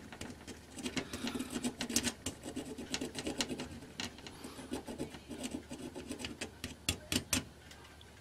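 A rusty electrical contact on a magnetic LED light strip being scraped with a small blunt Phillips screwdriver, giving quiet, close, rapid rasping strokes in an uneven rhythm with faint clicks.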